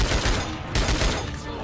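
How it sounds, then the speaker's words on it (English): Burst-fire gun shooting in The Darkness 2 video game, a loud dense clatter of rapid shots in quick bursts with brief gaps, filling the short stretch. "I don't remember a burst fire weapon."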